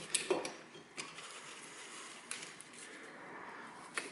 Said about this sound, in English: And then I fasten these bolts and then we continue.